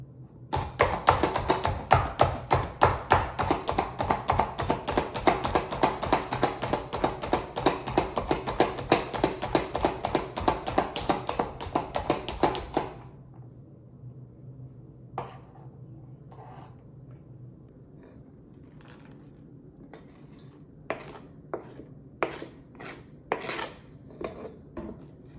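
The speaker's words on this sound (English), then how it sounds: "we're going to chop the carrots" Carrots chopped with a knife on a cutting board in a home kitchen, fast steady rhythmic knocks for about thirteen seconds, then a few sparse, separate taps.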